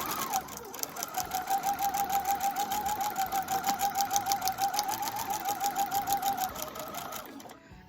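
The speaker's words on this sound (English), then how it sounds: "now I am going to stitch from the bottom of the bodice piece, the back bodice piece, along the dart line" A sewing machine stitches along a dart line on the back bodice piece of a dress, a steady rapid mechanical whir with even needle ticks, close and continuous for several seconds before stopping.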